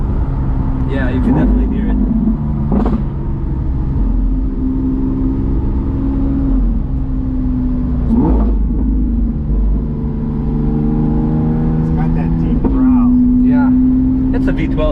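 A Lamborghini Aventador SVJ V12 fitted with a Balboni exhaust drones with a deep, steady rumble, swelling in short revs, while people talk over it inside the car.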